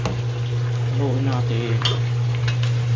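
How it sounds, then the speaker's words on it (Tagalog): A pot of ginataan bubbles at a low boil while a utensil stirs and scrapes, over a steady hum, with a brief voice in the background. "Kumukulo na siya haluin natin."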